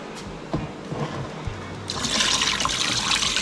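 Brine poured over mackerel in a tray: a rising gush of liquid splashing and filling, loud and close, after a few small knocks, with no talk.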